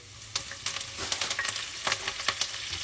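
Curry leaves crackle and spit as they fry in hot oil in a pan, a dense steady sizzle with sharp pops scattered throughout, close and fairly loud with no voices.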